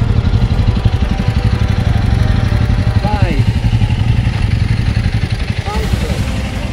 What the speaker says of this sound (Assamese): চাওকচোন বাইকবিলাকে কেনেকুৱা কষ্ট কৰি আহে ন বাইকাৰ্ছবোৰ